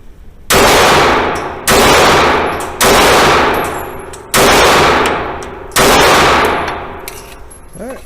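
Five loud shots from a Remington R51 Gen 2 pistol, each sharp crack followed by a ringing decay, spaced roughly a second apart with brief quiet between them.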